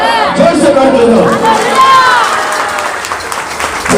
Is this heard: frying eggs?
no